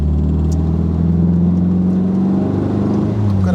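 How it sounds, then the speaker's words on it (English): Renault Caravelle with an R8 Gordini engine giving a steady, loud low growl from the rear, heard close and continuous from inside the car. "Got a nice little growl coming from the back from that R8 Gordini engine"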